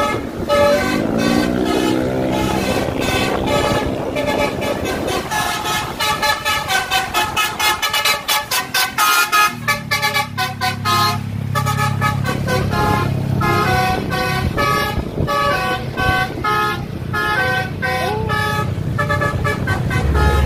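Musical basuri horns on four tour buses play loud, continuous melodic toots in rapid sequence, the tunes overlapping and shifting for the whole stretch, with engine rumble beneath and no talk.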